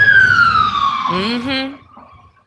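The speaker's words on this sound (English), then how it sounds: "I like how the sirens are going." An emergency vehicle siren wailing, its falling tone sweeping down and then breaking into a brief warbling yelp before cutting off, loud and close, while a person talks over it.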